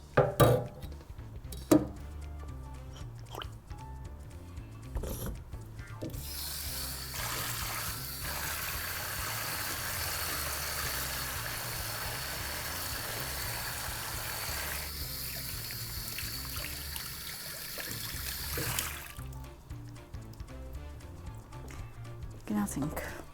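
A pan being scrubbed and washed with soap under running tap water in a home kitchen, steady water rushing with clinks of cookware and scraping, while a person talks over it.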